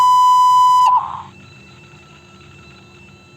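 An automated phone line for the KBC audition plays a single loud, steady electronic beep lasting almost a second, followed by quiet line hiss and a faint click.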